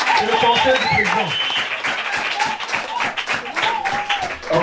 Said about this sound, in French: Est-ce qu'on va l'applaudir très fort?